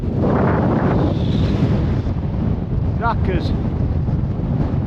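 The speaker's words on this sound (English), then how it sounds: "49 mile an hour wind." Strong 49 mph gale wind battering a wild camp in the Lake District, a loud, constant roaring rush over the microphone, with someone briefly speaking through it.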